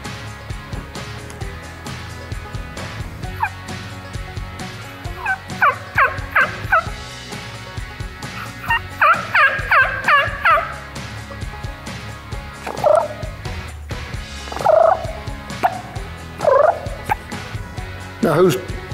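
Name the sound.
turkey call imitating a hen turkey's yelp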